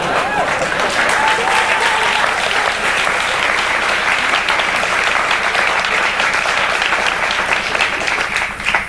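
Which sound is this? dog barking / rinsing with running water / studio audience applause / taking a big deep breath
studio audience applause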